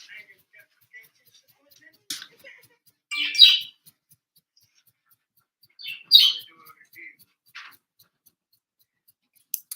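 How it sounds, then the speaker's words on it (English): A pet bird gives a few short, high chirps and squawks indoors, scattered sparsely with quiet gaps between them and no talk over them. "Hey, Ivy, pretty bird."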